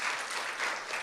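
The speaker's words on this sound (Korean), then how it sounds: "우리 고생한 우리 선교팀을 위해 감사의 박수를 보내도록 하겠습니다" A church congregation applauds a youth mission team in a brief burst of even, dense clapping that is moderately loud and steady for about a second, with no speech.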